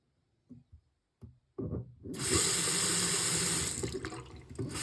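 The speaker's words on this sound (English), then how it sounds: "now you can turn the water back on" Water gushes steadily from a bathroom sink faucet after a Moen 1224 cartridge replacement, coming on after a few small handling knocks and flowing loud and continuous to the end.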